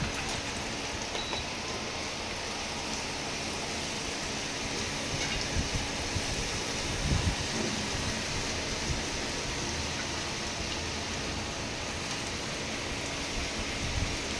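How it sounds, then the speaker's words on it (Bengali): Garlic fries in a little oil left over from cooking chicken laddus, a faint, even sizzling hiss that runs steadily with little change. "রসুনটা একটু ভাজা ভাজা হোক"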